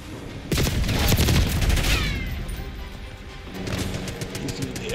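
Rapid bursts of automatic gunfire in Call of Duty: Black Ops crackle loudly in quick succession, then ease into quieter scattered shots and game effects.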